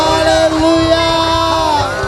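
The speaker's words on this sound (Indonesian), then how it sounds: "Berikan tepuk tangan yang terbaik buat Tuhan kita." A church congregation at a Sunday service claps and cheers loudly close by, with whoops and shouts over a continuous roar of voices.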